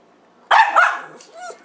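A dog indoors gives a couple of sharp, close barks followed by softer yips and a short whine-like vocalization, with a brief pause between.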